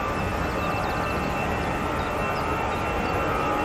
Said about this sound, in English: EasyJet A320 on the roll.